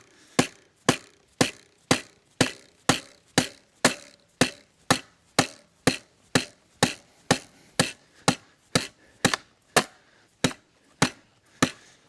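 A Microtech Combat Troodon knife being driven into something like a nail, struck about twenty times in a steady, even rhythm of sharp, loud, close hammer blows in the cold outdoors.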